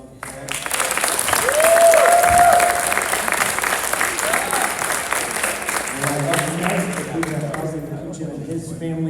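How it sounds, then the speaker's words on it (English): Applause at a high school athletic signing day honoring a football commit, a sustained wash of clapping from a crowd in a gym that peaks early then holds steady, with a voice speaking over it. "We give Caleb another round of applause."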